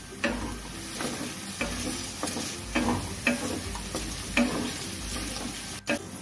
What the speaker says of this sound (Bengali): আলু ও পেঁয়াজ সব উপকরণ ভালো করে আমি ভাজা করে নিলাম।